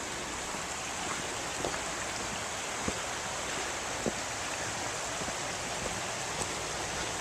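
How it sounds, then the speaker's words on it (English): Water trickles and rushes steadily beside a walking path near the falls at Stonehouse, a constant broadband wash with occasional faint taps and clicks and no talking. "As the water trickles by on the left hand side there."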